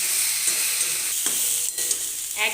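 Potato, pointed gourd and soybean frying in a wok until dry, a steady close sizzle with scraping stirs of a spatula breaking through now and then.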